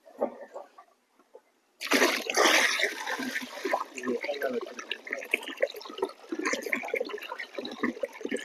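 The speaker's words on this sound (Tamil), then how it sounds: "தேவையான அளவு தண்ணி ஊற்றிக்கலாம் கொஞ்சம் தண்ணி ஊற்றுங்க இதில்" Water is poured into a jeevamirtham mix of cow dung, cow urine, gram flour and sugar, giving a sudden splashing gush that continues as a wet, bubbling churn while people talk nearby.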